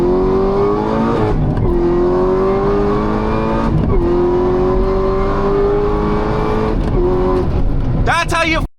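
A Corvette ZR1 accelerating hard, engine pitch climbing steadily then dropping sharply at each gear shift several times in a row, loud and close, ending in a rapid revving burst.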